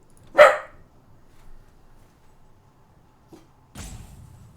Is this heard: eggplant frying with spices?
no